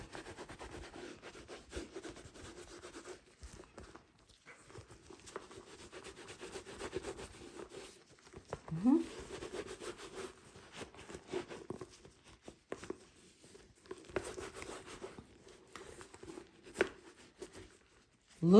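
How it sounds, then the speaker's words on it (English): A dry microfiber cloth buffs a Coach leather handbag, making soft, quiet rubbing and swishing strokes that come and go in uneven passes, with a few louder scuffs near the end. "We're going to take the bag and we're going to use our microfiber cloth. I'm going to use the dry side"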